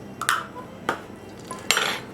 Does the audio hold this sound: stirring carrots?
yes